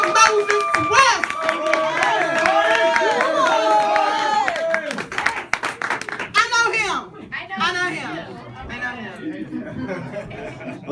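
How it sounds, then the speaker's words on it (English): An audience at a poetry show claps and cheers for a performer, with chatter and shouting voices mixed in; clapping is busy at first, then thins into scattered whoops and talk. "Start clapping, start clapping, start clapping"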